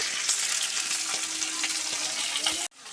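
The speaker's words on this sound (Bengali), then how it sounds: "রান্না বসিয়েছি, দেখো ভাত, মাছ ভাজা বসিয়েছি, দেখো ফ্যাসা মাছ।" Fasa fish fries in a pan, a loud, steady crackling sizzle for nearly three seconds before it cuts off abruptly to a much quieter background.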